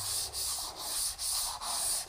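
Steady back-and-forth strokes of a sanding sponge strip on a baseboard, a rough scratchy rubbing repeated about five times in an even rhythm, close and clear with no talking.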